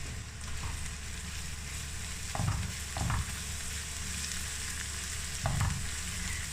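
Onion with ginger-garlic paste sizzles steadily in a pan for a masala egg dish, a constant frying hiss broken by a few brief louder stirring scrapes near the start, middle and end.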